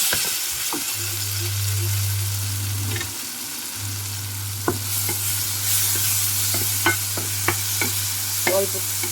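Chili powder stirred into fried prawns in a pan makes a steady sizzle with scraping spoon strokes and a few sharp clicks, over a constant low hum and with no talking.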